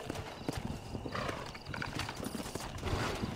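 A horse in the video game Red Dead Redemption: Undead Nightmare clip-clops with busy, uneven hoofbeats and whinnies over a noisy game soundscape.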